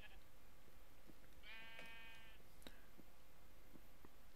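A single wavering Minecraft sheep bleat rises about a second in, close and distinct, with a few soft clicks and taps around it in an otherwise quiet scene.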